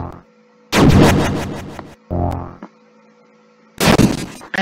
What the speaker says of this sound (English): he's destroying my mercy button